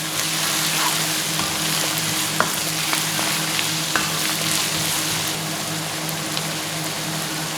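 Tatashe pepper, garlic and ginger fry in a pan, a loud, steady, rain-like sizzle with scattered pops and occasional stirring clicks.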